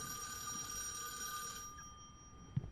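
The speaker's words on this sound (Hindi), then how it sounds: "ठीक है, फिर से फोन कर रहा है भूत मेरे को।" A telephone rings in a haunted hostel setting within a horror game, a thin repeating electronic bell tone that is faint and stops partway through, followed by a brief soft knock.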